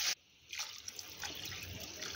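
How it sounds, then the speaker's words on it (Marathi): Water poured into a pan of oil-glazed masala to cook vegetables gives a soft, steady pouring trickle, close by and alone, after an abrupt start. "आता यानंतर आपण यामध्ये या भाज्या शिजण्यासाठी यामध्ये पाणी ओतून घेऊया"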